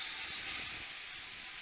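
Two onions frying in leftover meat grease, a steady, fairly quiet hiss of sizzling fat held close and alone without any talking.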